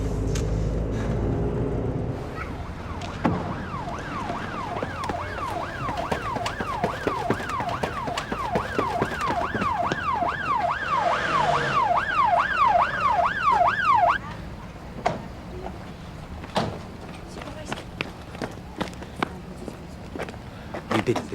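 An ambulance siren wails loudly and close, its rapid rising-and-falling sweep repeating for several seconds before cutting off, over rumbling traffic and scattered clatter.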